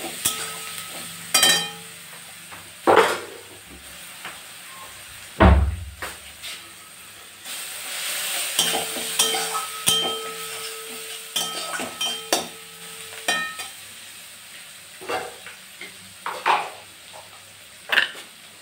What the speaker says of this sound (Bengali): পেঁয়াজটা ভাজা ভাজা হয়ে এলে আমি এখানে 1 টিস্পুন মতন রসুন বাটা দিয়ে দেব। দিয়ে আবারও এটাকে ভালো করে নাড়িয়ে নেব।